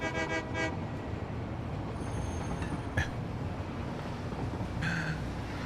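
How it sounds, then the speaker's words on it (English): A train in the Satisfactory factory-building video game rumbles along with a steady rolling roar, brief horn-like toots near the start and again around the end, no talking. "Nice train you got there."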